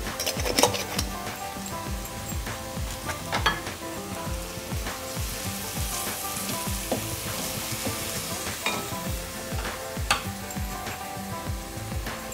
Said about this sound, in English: I'm going to add a little bit of salt to fasten the cooking process of the onions